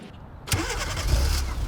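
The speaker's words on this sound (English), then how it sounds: "the car is running" A 2016–2020 Hyundai Tucson starts by remote start after a short quiet pause, with a quick crank that catches and settles into a low idle, close by.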